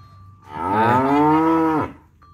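A year-old Pegon breed cow moos once, a loud, close, rising-and-falling bellow about one and a half seconds long with rich harmonics, and no talk over it.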